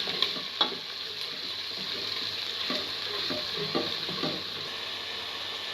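Ginger, garlic and green chili frying with browned onions in a pot, a continuous close sizzle broken by a few stirring scrapes and knocks, no talking.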